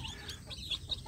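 Young village chickens clucking softly close by, a quick run of small chirps and clucks over low background noise.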